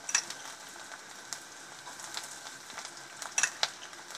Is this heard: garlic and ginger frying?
yes